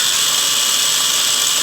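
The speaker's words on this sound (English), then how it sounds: "Now I'm going to just try to drill that wire out of there" A power drill bores out a wire on a Kawasaki F7 Bushwacker engine, a steady loud high-pitched whine running continuously without pause.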